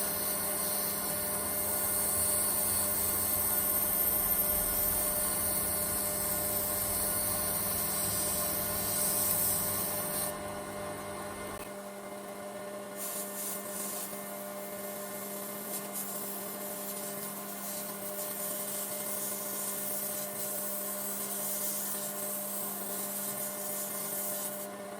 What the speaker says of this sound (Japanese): 細く切ったベルトで角を取りながら形を崩さず磨いていきます。